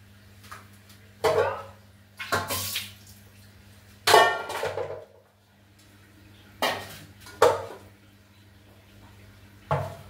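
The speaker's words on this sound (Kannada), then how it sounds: "ಇವಾಗ ನಾನು ಒಂದು ಪಾತ್ರೆ ಇಟ್ಕೊಂಡು ಚಿಕನ್ನ ಸುಣಿಸ್ಕೊತೀನಿ" Raw chicken for a home-made chicken dum biryani gets washed in a water-filled metal vessel, with about seven separate bursts of close splashing and clinking against the pot, separated by quiet pauses.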